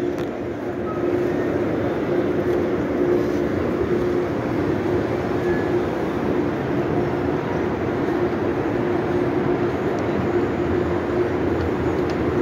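A steady, even rumble of trains fills the big multi-level Berlin Hauptbahnhof station, with regional and ICE high-speed services, heard as continuous low, distant-sounding rail noise without talking.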